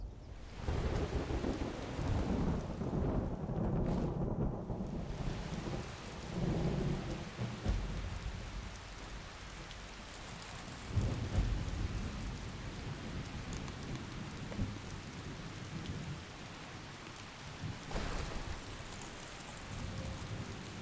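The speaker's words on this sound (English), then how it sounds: "we start off with some heavy rain and thunder." Heavy rain and rolling thunder in the video game Skyrim: a constant loud downpour with deep thunder rumbles building and fading across the clip, no voices.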